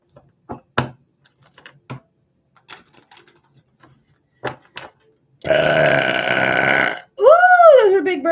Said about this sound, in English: those were big burps for some big readings there